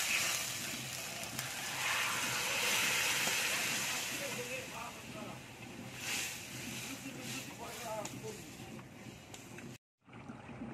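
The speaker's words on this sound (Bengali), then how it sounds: "ডালটা ফুটে উঠেছে" A pot of chana dal with paneer at a rolling boil gives off a steady, close bubbling hiss and soft popping that runs on without a break, then cuts out briefly near the end.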